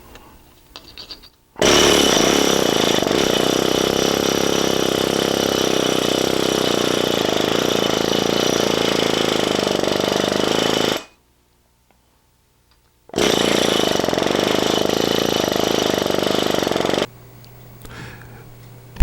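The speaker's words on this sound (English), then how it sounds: "this is a muffler gun with a chisel that comes in the muffler gun kit" A pneumatic muffler gun fitted with a chisel attachment, from a muffler gun kit, runs in two long continuous loud bursts of steady rattling air-tool noise, separated by a brief pause, with faint clatter at the start and end.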